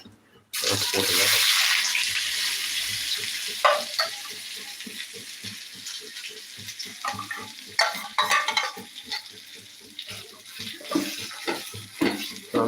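Potato masala for a vegetable samosa filling being stirred in a pan, with steady sizzling and a repeated scraping, clinking rhythm of the spoon throughout, close and moderately loud.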